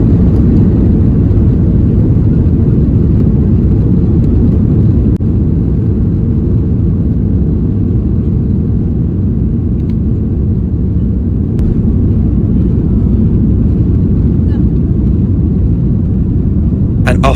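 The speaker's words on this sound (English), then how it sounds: "with a little transformation, we are now taking off bound for New York" An airliner taking off from Manchester Airport bound for New York, heard from inside the cabin as a loud, steady low roar and rumble of engines that holds for the whole stretch without letup.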